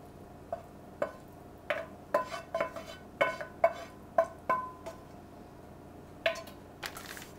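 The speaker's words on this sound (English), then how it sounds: "And now I'm going to be adding the rest of our meat and corn." A spoon scrapes and taps as ground meat and corn are spread over a tortilla layer in an enchilada pie, giving a dozen or so close, separate clinks and soft wet dabs in an uneven rhythm.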